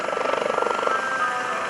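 A US Coast Guard search and rescue helicopter with twin Lycoming turbine engines at an airshow gives off a steady rhythmic rotor beat over a turbine whine, moderately loud and continuous.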